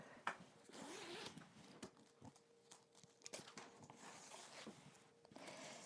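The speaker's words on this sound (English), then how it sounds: "So go ahead and separate your zipper." A clothing zipper is worked close by, with rasping zips and small clicks and rustles as the halves are pulled apart.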